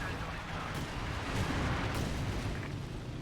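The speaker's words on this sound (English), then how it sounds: "it looks like defensive artillery has been activated" Defensive artillery pounds away in a 4v4 Company of Heroes 2 battle on the Red Ball Express map: a continuous, heavy roar of booms and rumbling blasts, loud and dense, with a few sharper bursts breaking through the din.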